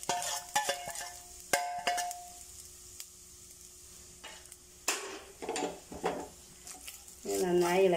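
Grated coconut frying in ghee in a pan while being stirred, with scattered scrapes and metallic clinks of a spoon against the pan over a faint sizzle, plus brief tonal kitchen sounds.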